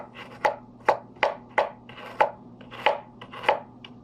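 A knife chops kimchi ingredients from a DIY kit on a cutting board, about nine sharp, close, evenly spaced thuds over a faint low hum, with no talking.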